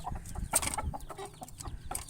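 Aseel rooster clucking in short bursts over a busy background, with a few sharper squawk-like calls standing out near the middle and end.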